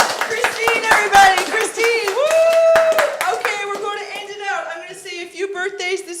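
Audience clapping on a talk show, sharp claps heard early alongside cheering and voices, with excited shouting and talk dominating the rest.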